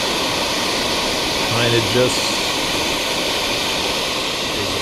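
A gas burner roars steadily and loudly while melting silver recovered from silver plate, a constant dense rush throughout, with a voice speaking briefly over it.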